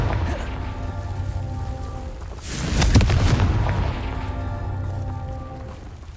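Confringo blast spell in Hogwarts Legacy, a single loud explosive burst in the middle rising over a steady rumbling, rain-like game ambience.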